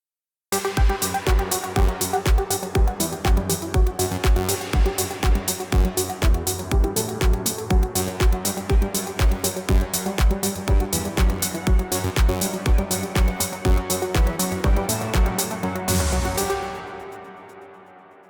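A song remade in a different style plays with a punchy, evenly spaced beat and dense layered instrumentation, loud and steady before fading out at the end.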